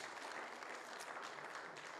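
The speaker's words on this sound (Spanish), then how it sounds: "Si le va a dar un aplauso al Señor, déselo con ganas, iglesia." A church congregation breaks into steady, dense applause, many hands clapping together at a moderate distance, filling the whole moment without any voices over it.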